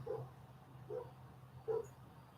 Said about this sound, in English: My dog is in there and barking like crazy.